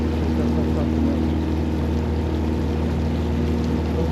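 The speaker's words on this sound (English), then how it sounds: "All you hear is the sound, like just the engine and the water." A river cruise boat's engine drones steadily beside moving water in Cataract Gorge, Launceston, Tasmania, a loud continuous hum with constant wash and no clear voices.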